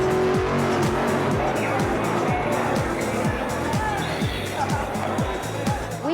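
Robotic radio-controlled race cars racing, with repeated whining passes and tire squeals sweeping by one after another, loud and close, against a busy background.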